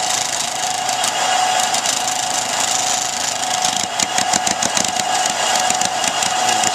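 Steady mechanical whirring with a rapid rattling scrape as a stiff Kydex sheet chatters against a wobbling spinning part, close and continuous.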